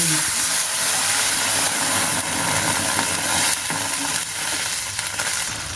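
Hot whey strained from homemade chhana is poured into a sizzling chhanar dalna curry of paneer and potatoes, giving a loud, continuous close-up sizzle and hiss that barely changes throughout.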